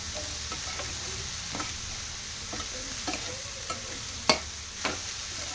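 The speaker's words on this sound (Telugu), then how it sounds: "ఇప్పుడు ఉడకబెట్టుకున్న పెసర్లను వేసేసుకోవాలి. ఒకసారి మొత్తం మిక్స్ చేసేసుకోవాలి." Boiled green gram is stirred into a sizzling tempering in a pan, a soft steady fry under scattered scrapes and clinks of a spoon, with no talking.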